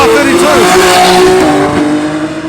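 Nissan GTR race cars, an R32 GTS4 with an RB20 engine against a heavily built GTR, racing on track at a GTR festival: loud, sustained engine roar with shifting revs, close and steady throughout.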